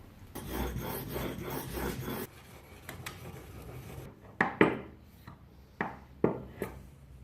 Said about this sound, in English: So I better get my chisel nice and sharp.